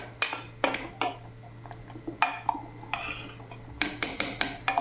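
Rice being stirred in a cooking pot on a traditional stove, a spoon knocking and scraping against the metal in irregular close clanks, with a low steady hum underneath.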